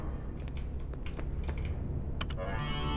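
Typing on a keyboard console in Five Nights at Freddy's: Security Breach, with rapid clicky keystrokes in quick bursts over a steady low hum, then an electronic tone at the end.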